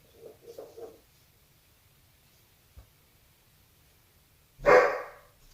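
A puppy indoors gives a few soft yaps early on, then one loud, sharp bark near the end, with quiet room tone in between.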